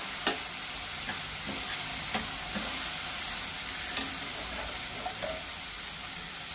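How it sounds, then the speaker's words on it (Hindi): Milk poured little by little into a hot pan on low flame, giving a steady close sizzle and bubbling hiss broken by a few soft clinks of stirring. "अब हम इसमें दूध डालेंगे, थोड़ा थोड़ा करके दूध डालेंगे"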